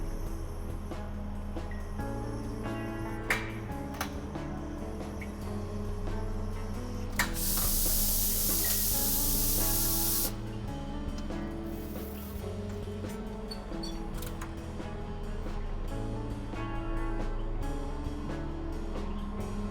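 A ROQ foil heat press unit cycles on an automatic screen printer, giving a steady mechanical hum with clicks and knocks and a loud, sustained pneumatic hiss lasting a few seconds midway.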